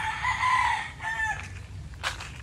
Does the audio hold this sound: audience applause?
no